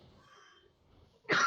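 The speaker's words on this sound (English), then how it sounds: "I'll be glad when this cough is over with." A single sharp cough from someone nursing a lingering cough bursts out loud and close at the end, after a stretch of near silence with faint background tones.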